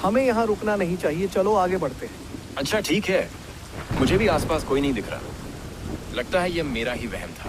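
Rain pours steadily while thunder rumbles, heard beneath people talking in the foreground.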